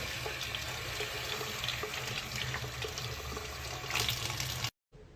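A tap runs water into cupped hands at a bathroom sink. The steady, close, full splashing rush carries on without a break and then cuts off abruptly near the end.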